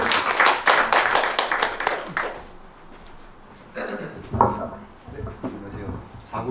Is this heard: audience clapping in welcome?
yes